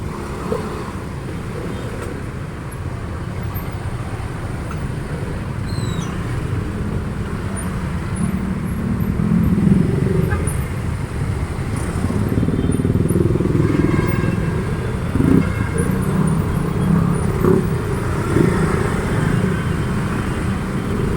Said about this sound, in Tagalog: masikipan daloy ng trapiko dito sa Osmeña Highway